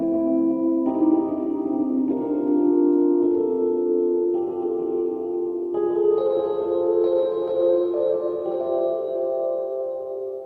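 Rhodes electric piano played through a heavy Entineering Convolution reverb: slow, sustained chords change every second or two, each smearing into a long, washed-out tail.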